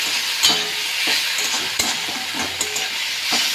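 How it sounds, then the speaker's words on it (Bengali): Onions frying in a pan, soaked in water beforehand, stirred gently with scraping utensil strokes over a steady close sizzle, with a few sharp clinks punctuating the frying. "পেঁয়াজগুলো দিয়ে হালকা হালকা নাড়িয়ে নেব"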